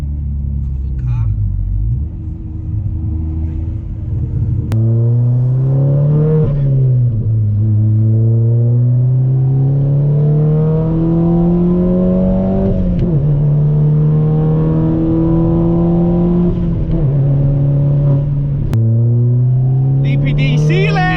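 A tuned 380bhp SEAT Leon Cupra R, heard from inside, pulls hard through the gears: a loud engine note climbs repeatedly, breaks at each shift and climbs again, with occasional excited voices over it.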